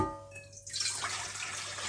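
Lukewarm water pours into a mixing bowl in a home kitchen, a steady broadband splash and trickle that starts abruptly partway in and carries on to the end, fairly close and with no talk.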